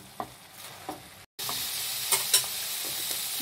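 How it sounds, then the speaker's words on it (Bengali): Vegetables and spinach filling for savory pancakes being stir-fried in a pan, a steady close sizzle with a few soft scrapes of stirring and a brief gap midway. "ভালো করে নেড়ে নিন।"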